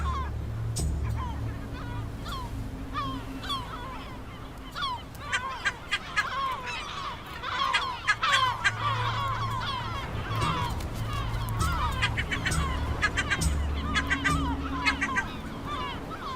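Gull colony on barren rock in the Canary Islands, home to El Hierro giant lizards: a dense chorus of honking, squawking calls near and far, steady over many seconds with bursts of sharper cries and a low rumble beneath.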